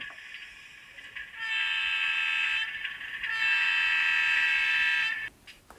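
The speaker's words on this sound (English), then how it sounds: "I can now operate the locomotive in the background using my PowerCab without it plugged in at all to the base station" A model train locomotive under NCE PowerCab control runs with a bright, tonal horn-like buzz in two long bursts separated by a short dip, the sound fairly close and fading out at the end.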